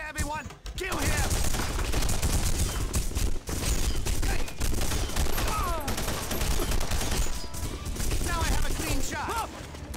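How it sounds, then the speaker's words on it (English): Dense, continuous gunfire and bursts in The Punisher video game during a prison breakout boss battle, a loud unbroken barrage with clattering shots for the whole stretch, mixed with game noise and some voices. "Open fire, everyone! Kill him!"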